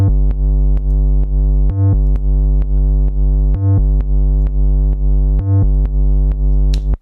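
Deep sub bass layer added under a loud electronic production section, sustained low tones pulsing in a steady rhythm with regular short breaks, prominent and loud in the mix, no voices.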